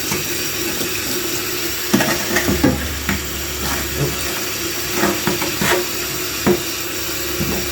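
Water runs and splashes as a surface coated with Elbow Grease Power Paste lemon fresh cleaner is rinsed, a steady close stream with scattered clatters and knocks.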